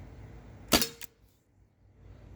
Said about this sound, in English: This is the last shot.